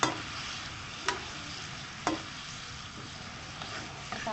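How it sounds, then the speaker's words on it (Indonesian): A spoon stirs bay leaves, lime leaves and lemongrass in a frying pan, with a low continuous sizzle and a few distinct scrapes or taps against the pan, close and alone. "kita aduk"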